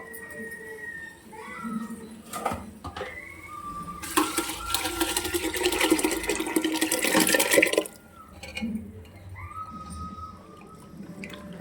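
Cooked lentils mixed with tamarind water and ground coconut are poured into a pot for dalcha, making a wet, rushing pour of about four seconds in the middle, with a voice speaking before and after.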